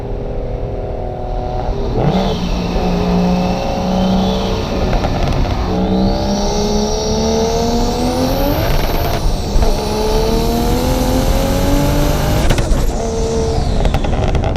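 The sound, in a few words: single turbo BMW 335i accelerating in a pull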